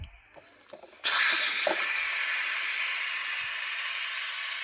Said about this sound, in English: And you can see all the steam, I hope, coming out because it's a pressure cooker, steamer